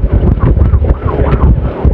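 Loud, gusty wind buffets the microphone in a continuous roaring rumble.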